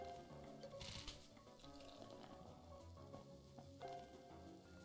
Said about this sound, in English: I'm gonna get this person's small grape soda with ice.